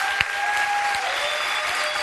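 A studio audience on the Brazilian TV comedy show CQC bursts into steady, dense applause that carries through the whole stretch, with faint tonal music lines running underneath.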